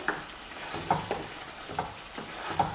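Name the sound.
potatoes being mixed and sizzling in a pan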